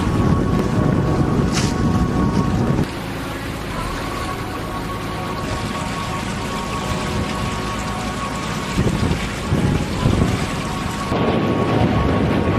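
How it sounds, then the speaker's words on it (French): Steady wind roars across the open water aboard a sailboat alongside rushing, splashing waves, loud and continuous, with a few gusty surges. "Le vent s'est levé, c'est ce qu'il faut à la grosse barque à Sondo"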